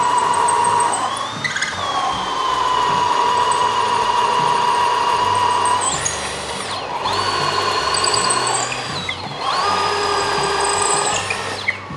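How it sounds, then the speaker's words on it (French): An electric drill bores through a plaster wall and a wooden skirting board, a loud whining motor that rises and falls in three long bursts with brief pauses, close up and alone. "je viens de changer de forêt pour traverser mon mur en plâtre et j'attaque le perçage au travers du même trou"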